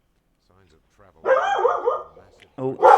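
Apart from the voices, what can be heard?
dog barking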